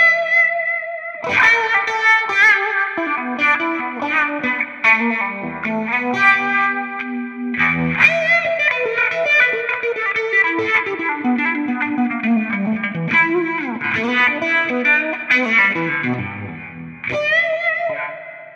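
Electric guitar run through overdrive into a Univibe modulation effect in the Amplitube app on an iPhone, played as a continuous, loud, gained-up melodic line with swirling, phasing tone and a brief pause near the end.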